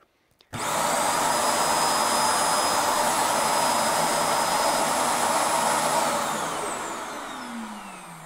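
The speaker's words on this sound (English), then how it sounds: "It's gonna come back here and empty itself. And it kind of sounds like a jet engine." A robot vacuum's dock empties its dust bin: a loud, steady roaring suction starts abruptly and holds for several seconds, like a jet engine, before tapering slightly at the end.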